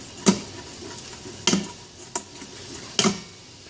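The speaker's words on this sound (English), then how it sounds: "we give it a good deglazing" A spatula scraping the bottom of an Instant Pot while deglazing after a pork roast, four sharp, separate scrapes at irregular intervals over a faint sizzle.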